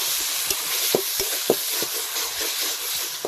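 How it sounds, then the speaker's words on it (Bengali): Chicken with sour yogurt frying in oil in a village kitchen, stirred with a steady sizzle and a series of sharp scraping clicks from the utensil, close and alone. "টক দই দেওয়ার পরে ভালোভাবে কষিয়েছি দেখুন"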